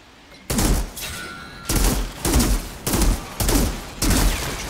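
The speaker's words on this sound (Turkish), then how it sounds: "Yeni sniper'ımla kombata giriyorum." Sniper rifle shots in the video game Outriders, five heavy booming reports spaced roughly evenly, each with a sharp attack and a reverberant tail, loud and close, with no talking.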